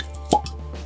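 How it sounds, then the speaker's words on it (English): A single sharp pop of a cork being pulled from a Jack Daniel's whiskey bottle, brief and close, over a steady low hum. "Alright, cork pop."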